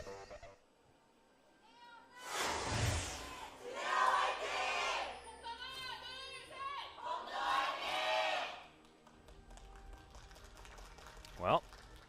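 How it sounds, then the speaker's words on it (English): Fans cheer at a League of Legends esports match, a Korean LCK promotion game between Jin Air and Kongdoo Monster, in an arena. Crowd bursts rise and fall in several waves, with some shouting. "you can see the fans still certainly cheering for Kongdoo Monster"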